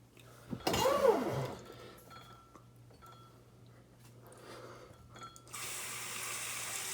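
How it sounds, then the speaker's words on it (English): Tap water runs into a container, a loud splashing rush at first that settles into a softer steady trickle, then a brighter hiss near the end. "we're just going to fill water up to the line"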